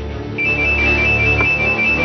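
A mobile phone rings with a steady electronic tone that begins just after the start and carries on over a low background hum.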